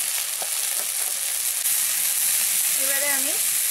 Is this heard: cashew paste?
yes